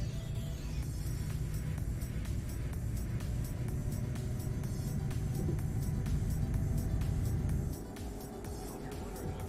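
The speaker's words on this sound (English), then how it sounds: "I'm in a big truck and I can go fast enough around here." Heavy truck driving on a road in Euro Truck Simulator 2: a steady low engine rumble with road noise, a regular ticking on top, and a slight drop near the end, moderately quiet and with no clear voices.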